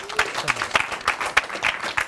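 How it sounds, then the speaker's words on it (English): Studio audience applause, a brief burst of brisk, dense clapping with sharp individual claps, fairly close and alone. "give them a round of applause"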